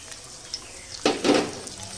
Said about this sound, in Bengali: এবার দেবো রসুন কুচিটা